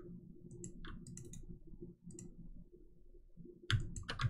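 A computer mouse clicks during work in clothing design software, several light sharp clicks spread across a quiet background hum, with a louder thump near the end.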